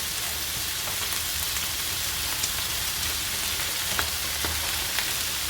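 Food fries in cold pressed rapeseed oil over very high heat, giving a constant crackling sizzle with a few faint pops, close and steady.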